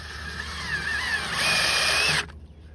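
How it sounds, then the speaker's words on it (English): Power drill driving a screw into a trellis cross arm, a steady whining motor that rises in pitch and loudness midway, then stops abruptly, close and alone. "Put the second screw in"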